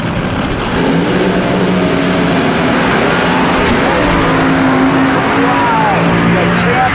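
An AA/Fuel nitro dragster at an NHRA Heritage Series drag race roars steadily down the strip, a loud sustained engine blast filling the whole clip with crowd and commentary mixed underneath.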